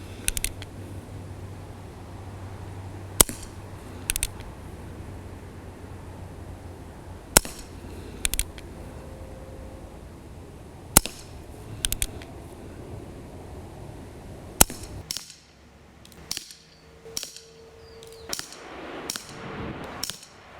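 A Colt .45 Single Action Army CO2 BB revolver fires at a target seven meters away, with about eight sharp, close pops spaced a few seconds apart. Between them come clicks and brief mechanical handling noises.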